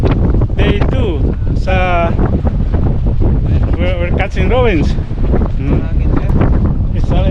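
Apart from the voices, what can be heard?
wind blowing on a boat at sea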